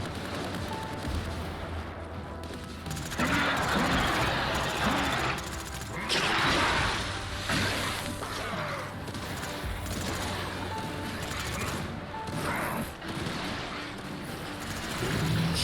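Gunfire from VSS and MP5 weapons in the online shooter Stay Out, with dense bursts of shots and heavy booms over several seconds amid rumbling game ambience, loud and continuous.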